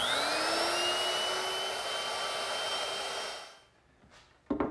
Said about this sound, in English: to make it a little bit softer on the top edge, I'm just going to use a 1/4 inch rounding over bit